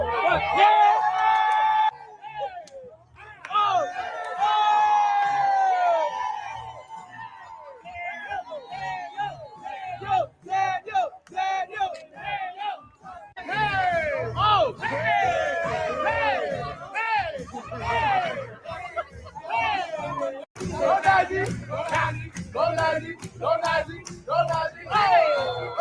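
A rally crowd of political supporters chatters, whoops and shouts in a loud, continuous hubbub, with bursts of cheering rising and falling throughout and individual yells standing out near the mic.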